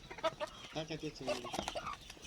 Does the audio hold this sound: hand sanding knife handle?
no